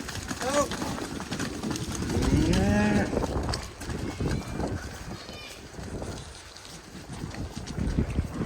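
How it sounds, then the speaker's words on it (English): Cattle moo loudly and repeatedly after being herded into a pen fenced with electric fencing on a farm, the calls rising and falling close by over wind noise on the microphone. "So we got the cows in. That went really well actually, and they've gone absolutely crackers."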